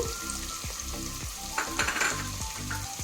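Onions and green chillies fry in a pan for an Andhra-style spicy mutton curry, giving a steady close sizzle with a few louder bursts of spitting oil midway; no one speaks.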